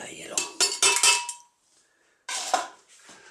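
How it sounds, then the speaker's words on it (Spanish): Ice cubes dropped into a blender jar for a frozen kiwi cocktail, a few sharp clattering clinks in two bursts separated by a short quiet gap, close and fairly loud. "Vamos a echar al vaso de la batidora un poquito de hielo."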